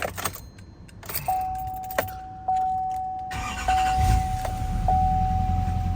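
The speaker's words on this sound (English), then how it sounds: "now the truck will start right up" Keys jangle and a GMC Sierra pickup chimes steadily, then its engine, fitted with an immobilizer kill switch, cranks and turns over into a low, rumbling idle close by.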